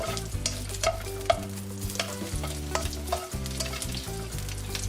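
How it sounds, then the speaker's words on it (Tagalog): Red onion searing in a pan gives a loud, continuous sizzle with stirring scrapes, layered over steady background music. "i-seared naman natin yung red onion"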